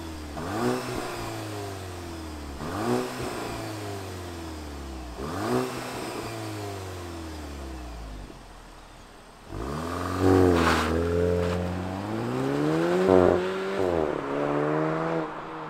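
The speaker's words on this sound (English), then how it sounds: "let's fire up our GTI and hear what it sounds like" 2022 VW GTI Mk8 with a 2-liter turbocharged inline-four revving in short repeated bursts, each rising and falling in pitch, then a longer louder run of revs near the end, close and clear with no talking.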